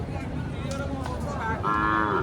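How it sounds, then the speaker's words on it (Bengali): A desi Sahiwal heifer calf lows at a busy cattle market, one drawn-out moo rising near the end over a dense bed of crowd noise. "দেশি সাইবাল বেটি বাছুর না? অনেক সুন্দর একটি বাছুর, কালারফুল বাছুর।"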